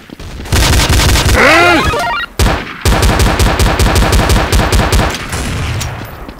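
Dual-wielded guns blast in rapid bursts in a first-person shooter game, loud and continuous with overlapping shots, a brief pause mid-way, then steady rattling automatic fire.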